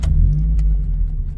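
A car engine catches and settles into a low, rumbling idle right after ignition timing work, heard close and steady for a brief moment.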